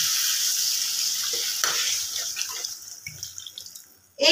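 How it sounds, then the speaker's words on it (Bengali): Water poured into a pan of frying egg curry made with two eggs, a steady loud hiss and sizzle that slowly fades and settles into soft bubbling, with a sharp new surge of sizzling at the very end. "এবার এর মধ্যে একটু জল দিয়ে দেব।"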